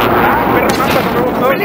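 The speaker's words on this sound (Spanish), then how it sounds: "¡Nos disparan!" Gunfire in COD: Warzone, a loud dense barrage of shots with a rough, booming texture, close up and steady throughout a short burst, covering most other sound.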